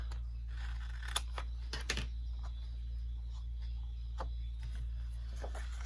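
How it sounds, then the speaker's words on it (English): Scissors snip away the excess paper from a handmade mini journal, a few short crisp cuts spaced out over a steady low hum, close and fairly quiet. "you're just going to cut the excess off"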